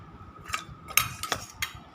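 Rice and side dishes such as jute leaves, fried potato and potato-pointed gourd curry are served onto a plate at home, with a handful of close metallic clinks of a serving spoon against steel, spaced unevenly and nearly silent between, with no talk.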